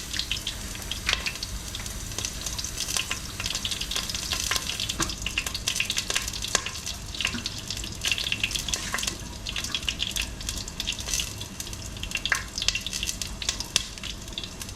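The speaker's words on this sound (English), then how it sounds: "As you can hear, this is frying" Continuous crackling sizzle of food frying in a pan before shrimp is added for diri djon djon, with dense spitting pops throughout, close and steady with no talking.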